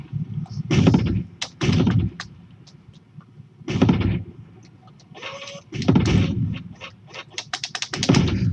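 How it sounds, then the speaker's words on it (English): Tank guns in a video game fire in repeated heavy bursts, several booming blasts coming in close pairs with quieter gaps between them, loud and without speech. "That sounds like double firing!"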